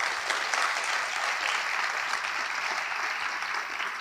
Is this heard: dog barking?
no